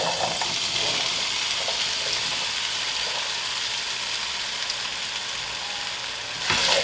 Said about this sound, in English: I'm going to get my potatoes in here to start frying up.